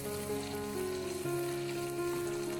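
Chicken fries in a pan over a medium flame, giving a dense, even sizzle with faint stirring underneath, steady and close throughout, with no voices; a low tonal hum also runs beneath it.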